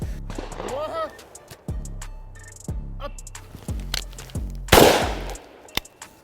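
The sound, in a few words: gunshots from a rifle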